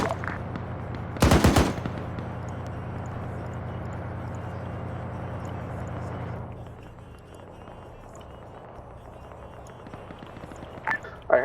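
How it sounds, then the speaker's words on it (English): A loud burst of rapid automatic gunfire early on, then sustained rumbling battle ambience with scattered distant shots and a sharp crack at the end, in a video game. "I hear a lot of gunshots"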